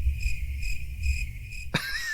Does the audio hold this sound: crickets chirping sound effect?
yes